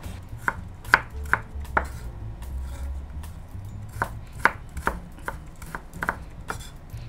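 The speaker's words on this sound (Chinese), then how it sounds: "咁我哋啊切一切啲姜片" A knife chops slices of ginger on a cutting board in a home kitchen while cooking braised tofu with roasted pork, about a dozen sharp, close knocks in an uneven rhythm over a low background hum, with no talking.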